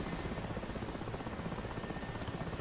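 An overloaded Mi-8 helicopter in the combat flight simulator DCS, carrying rocket pods and bombs, gives a steady, low rotor thrum with a fast, even pulsing beat throughout and nothing else heard over it.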